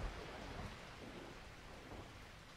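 Thunderstorm with steady rain in the fishing video game Russian Fishing 4, a faint, continuous wash of rainfall with low rumbling underneath, no talking.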